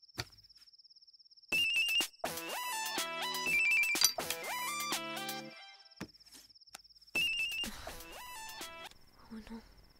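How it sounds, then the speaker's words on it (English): A mobile phone ringtone plays in repeated melodic electronic bursts with brief gaps between them, clear and fairly close in a quiet room. "It's ringing."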